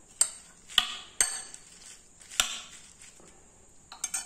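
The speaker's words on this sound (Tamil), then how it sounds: "இது நல்லா வந்து மிக்ஸ் பண்ணிக்கோங்க." Brinjal salad is tossed in a bowl with a spoon, giving a handful of quiet, close clinks and scrapes at uneven intervals against a hushed kitchen background.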